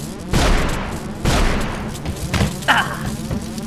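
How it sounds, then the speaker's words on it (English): Two heavy booming blasts, a few seconds apart, with rumbling decay and scattered cracks and debris noises between them. "then there was a loud explosion"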